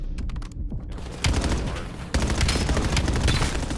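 Rapid bursts of gunfire shooting through walls in a competitive shooter match, loud dense volleys of rifle shots with brief gaps, alone without speech.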